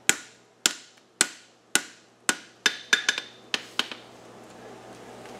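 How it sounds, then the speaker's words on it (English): Hammer blows beveling a two-piece horseshoe on the anvil horn, about a dozen sharp ringing metallic strikes at a steady pace with a couple of quick doubled hits, close and loud, each ring decaying before the next. "I'm going to come right in here with my round side of my hammer, start it there, and then the bevel all the way through the branch"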